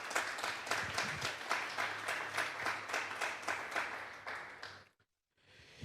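A church congregation applauds during a Sunday morning service, a steady rhythmic clapping that carries on for nearly five seconds, then cuts off abruptly before a faint return.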